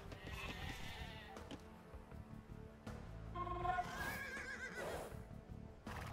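Sheep bleat in the Age of Empires 2: Definitive Edition real-time strategy game, mixed with a horse whinny and other game effects over a busy background of unit sounds.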